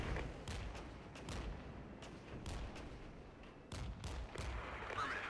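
Mortar and artillery fire in the Cold War video game Warpath, with repeated booming shots at irregular intervals over a constant battle rumble, fairly far and muffled.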